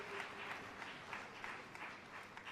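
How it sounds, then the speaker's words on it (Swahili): Faint, steady applause from an audience at a World Press Freedom Day ceremony in Tanzania, heard from a distance as a continuous patter of clapping. "Naomba tuongeze makofi tafadhali ya pamoja"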